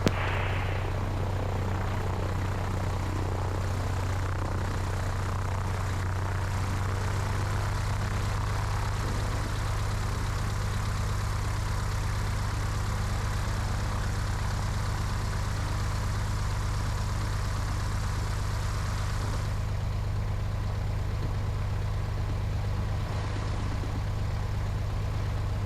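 A small airplane engine runs at a steady idle before takeoff on runway 30 at a grass-strip airfield, a loud, continuous droning hum that holds for the whole stretch with no talk over it.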